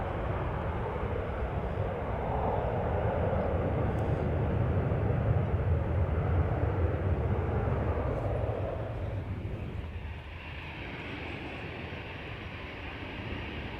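A 21-year-old Boeing airliner departs for Casablanca at Amsterdam Schiphol, its broad engine roar loud and steady before easing slightly toward the end.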